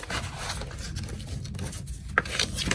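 Paper being scored by hand for a folio with a 1/4 inch gusset, a close soft scraping and rubbing with a few faint ticks and one sharper tap near the end, no speech.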